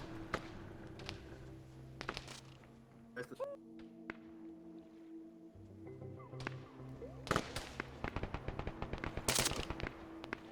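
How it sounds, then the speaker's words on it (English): Gunfire in the game Insurgency, with sharp shots scattered across the scene and a rapid burst of firing near the end, set against game ambience and a low rumble, with voices talking over it. "they're shooting at dudes"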